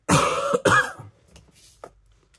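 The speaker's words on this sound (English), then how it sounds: "One thing I hate is a dry, tickly cough" A dry, tickly cough: two sharp, close coughs in quick succession, then a few faint throat-clearing sounds trailing off into near quiet.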